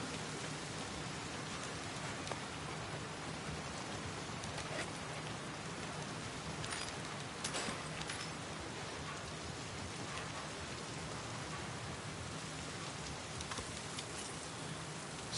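Rain in Seattle in the video game The Last of Us Part II falls as a steady patter on surfaces, with scattered sharper drips and taps over an even background hiss.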